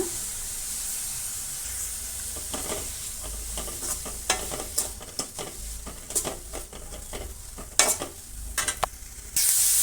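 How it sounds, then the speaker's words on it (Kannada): Ginger garlic paste sizzles in a hot pan, a steady hiss broken by repeated scraping stirs, with a louder spitting burst at the end, close up and with no talk. "ಈಗ ಶುಂಠಿ ಬೆಳ್ಳುಳ್ಳಿ ಪೇಸ್ಟು ಒಂದು ಅರ್ಧ ಸ್ಪೂನಷ್ಟು ಹಾಕೋಣ"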